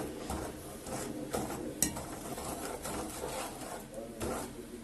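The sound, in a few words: stirring melting sugar for caramel in a pot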